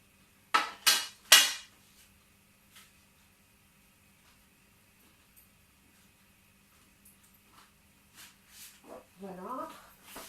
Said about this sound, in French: je tapote un petit peu avec les côtés de mes mains